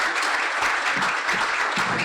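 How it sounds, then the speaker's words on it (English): Audience at a Council on Aging candidate forum giving the candidates a round of applause, dense steady clapping from a room full of people, continuous throughout. "I'm going to ask the round of applause for the candidates."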